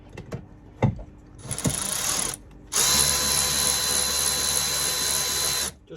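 A socket wrench winds up the rear brake adjuster on a Fiat 500 during a rear brake shoe replacement, giving a few sharp clicks followed by two sustained mechanical whirring bursts, close and fairly loud.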